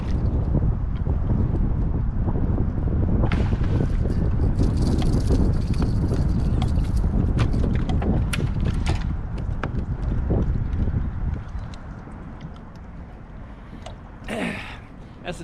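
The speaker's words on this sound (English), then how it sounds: "Wind is blowing 70 miles an hour." Strong outdoor wind roars and buffets the microphone on a cold day of fishing, loud and gusty for most of the stretch before easing toward the end, with a few faint knocks and rustles.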